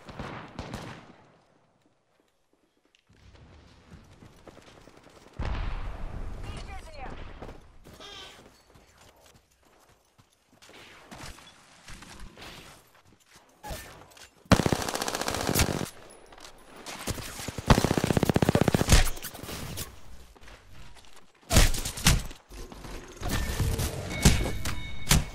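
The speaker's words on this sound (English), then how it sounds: "He was shooting at me." Video game gunfire erupts in bursts, with quiet stretches between bouts of rapid automatic shooting that grow loud and dense toward the middle and end, mixed with other game effects and no clear talk.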